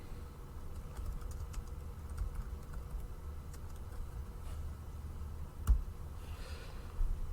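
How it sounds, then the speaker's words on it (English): Steady typing on a computer keyboard for a word processing document, with soft, rapid key clicks running continuously at close range over a faint background hum, with no talk. "I'm going to type some text here."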